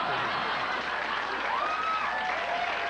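A studio audience at a late-night talk show claps steadily, dense continuous applause filling the room from start to finish, loud and close with a few faint whistles or cheers rising through it.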